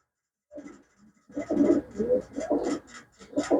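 A pigeon coos close by, with a faint first call, then a series of soft throaty coos in bursts, with no talking.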